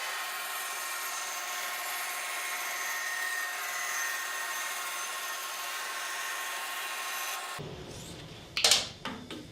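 A band saw rips a thin wooden guitar lining strip to 200 thousandths thick, a steady loud whirring cut that runs for several seconds, then stops abruptly, followed by a few clattering knocks as the piece comes free.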